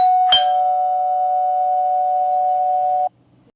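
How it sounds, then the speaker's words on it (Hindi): A doorbell rings once with a sharp strike followed by a long steady electronic tone that holds for about three seconds and then cuts off abruptly, loud and close, with no voices. "जिमिन और जिन बात ही कर रहे होते हैं कि तभी डोरबेल बजती है।"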